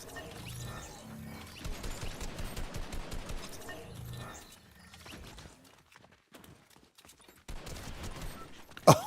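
Rapid bursts of gunfire rattle through a Fortnite match, fast cracking shots and scuffling steps at moderate level, then a lull of scattered single shots before one loud final hit.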